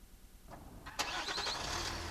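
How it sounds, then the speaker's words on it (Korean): A truck engine cranks over and catches in an audio drama scene, a couple of short starter attempts followed by a sudden burst into a steady, close running idle. "시동이 걸린다."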